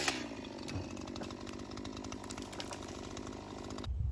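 Chainsaw making the final felling cut through a tree, a loud, steady high-revving buzz held close for about four seconds before cutting off abruptly.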